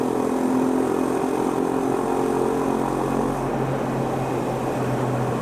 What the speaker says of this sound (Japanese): ちょっとトンネルの中なんでノーマルマフラーとは思えないような音が聞こえています。